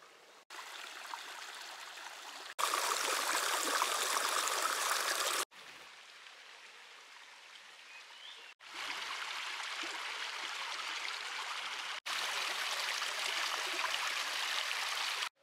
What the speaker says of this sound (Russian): Похоже, что эта речка разливается вот до этих берегов.